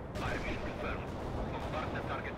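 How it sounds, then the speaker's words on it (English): Strafing-run gunfire rattles through a battle in the strategy game World in Conflict, a dense stretch of rapid shots and booms throughout. "So let's call in some strafing runs."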